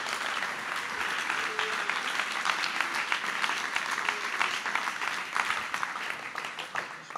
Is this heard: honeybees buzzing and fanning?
no